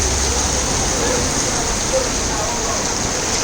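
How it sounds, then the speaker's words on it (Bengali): Heavy storm rain pours down in a loud, steady, unbroken hiss and roar, close and constant for the whole stretch. "জোরে জোরে বৃষ্টি হচ্ছে"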